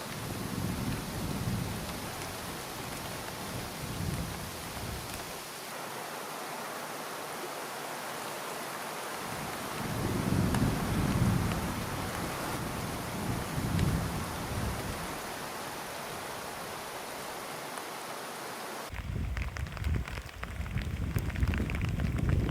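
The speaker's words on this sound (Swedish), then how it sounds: "Det var blåsigt och regnade lite" Steady wind rushing with light rain pattering throughout, gusts swelling and easing, no voices, in Tiveden National Park, Sweden.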